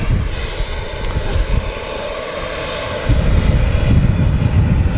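A Dreamliner airliner named Pixie Dust arrives at Manchester Airport under overcast skies, a steady broad engine rumble that grows heavier and louder partway through, with no talking.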